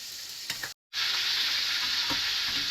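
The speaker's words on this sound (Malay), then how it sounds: "Kita perlu goreng setengah masak ya." Spice paste of turmeric, ginger and bird's eye and red chilies sizzling and frying in a hot pan, a steady loud hiss with a brief silent cut and occasional stirring scrapes.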